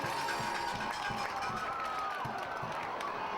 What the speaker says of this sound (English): And then the crowd goes wild, and we have a nice crowd here